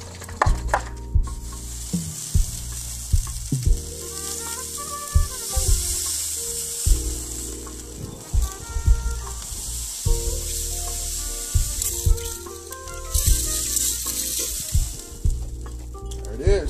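Marinade is spritzed onto pork spareribs in a smoker, a steady hiss running through the whole stretch, broken by irregular clicks and knocks of the spray bottle and handling.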